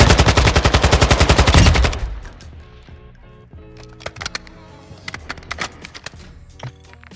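A Kastov 445 rifle from the video game DMZ fires a loud, fast burst at a gun range, then sounds several softer, scattered single shots and clicks.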